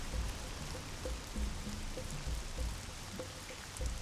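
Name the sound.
rain falling, from the video game Animaniacs: The Great Edgar Hunt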